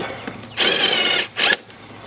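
A hose clamp on a K&N air filter in a Jeep Patriot is tightened with a ratcheting tool, two close bursts of rapid clicking, the first longer, the second short.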